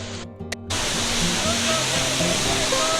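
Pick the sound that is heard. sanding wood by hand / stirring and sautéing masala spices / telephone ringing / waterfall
waterfall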